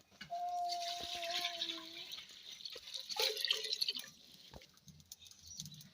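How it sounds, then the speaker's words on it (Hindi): Water is poured into a cooking pot in a village kitchen while beef is prepared. The pour is soft, with a liquid splash and a few metallic clinks against the pot, fairly quiet and without speech. "मैं पानी डालूंगी देगची में"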